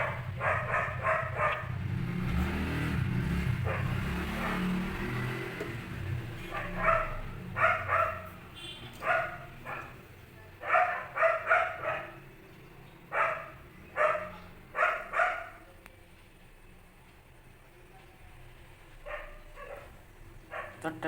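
A neighbouring house's dog barks in a string of sharp, repeated bursts in short clusters, fairly distant, over a low kitchen rumble while a chicken curry is being cooked.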